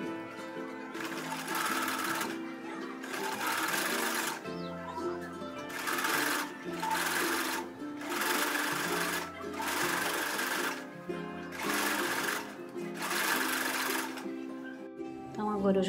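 An overlock sewing machine stitches the edge of fabric for a quilted capitonê soap holder, whirring close up in about six steady bursts with short pauses, while a voice talks between and over the runs.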